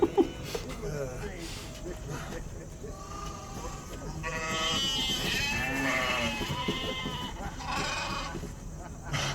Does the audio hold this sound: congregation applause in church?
no